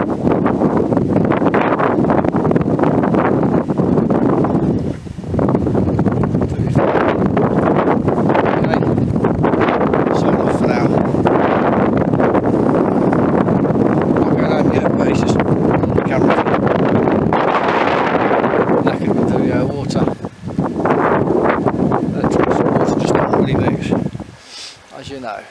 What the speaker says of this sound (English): Quite blowy on this hill.